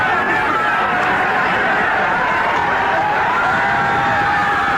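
Toronto Blue Jays fans cheer in Canada during the World Series, a loud, unbroken roar of a huge crowd with a shifting, excited din.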